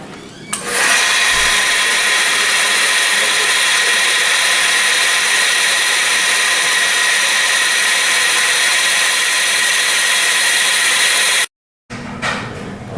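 A polishing pad with 400 grit abrasive grinds across a quartz countertop in a steady, loud whir that runs unbroken for about eleven seconds, then stops abruptly and briefly restarts.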